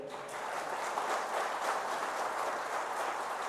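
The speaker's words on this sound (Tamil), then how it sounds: "நல்ல ஒரு கைத்தட்டு கொடுங்க" Steady audience applause at a crowded political speech event in Tamil Nadu, a dense wash of clapping that holds evenly throughout at moderate distance.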